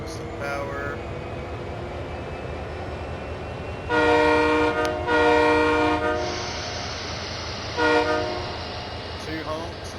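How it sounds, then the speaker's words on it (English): The horn of a GP38 locomotive in Train Sim World 5 sounds in two long close blasts, then a shorter third blast, over steady engine rumble and cab noise, with someone talking. "Two honks and then start moving."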